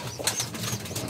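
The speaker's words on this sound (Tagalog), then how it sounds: "Ang ibon natin." Pigeon wings flap in a brief, close burst of fluttering among racing pigeons kept by a fancier, with steady low background noise throughout.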